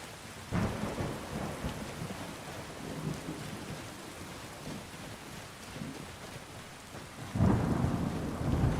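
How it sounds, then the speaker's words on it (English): Thunderstorm ambience in the video game Skyrim: steady rain hissing on surfaces, a low thunder rumble near the start and a louder, closer thunderclap breaking in near the end. "These are some really good thunder noises as well."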